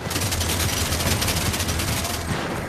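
Rapid video-game gunfire rattles in a dense, continuous burst aimed at a zombie, loud and close for nearly three seconds with no talking.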